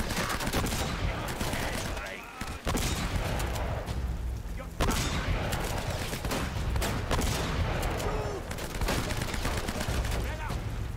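Sustained gunfire from the action game Uncharted: Drake's Fortune, with dense, steady bursts and heavy booms packed throughout the stretch, loud and continuous with a player's voice occasionally heard underneath.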